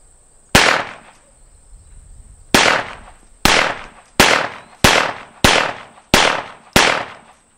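Shots from a Hi-Point semi-automatic pistol loaded with Pyrodex black powder: eight sharp, loud reports, the first alone and the rest in a steady rhythm about two-thirds of a second apart, each with a short ringing tail and no talk.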